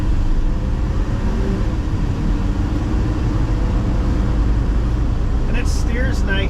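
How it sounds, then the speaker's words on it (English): The engine of a 1973 Ford F250 truck drones low and steady while the truck drives along, loud and close throughout, with a brief higher sound near the end. "We'll give it a little gas here."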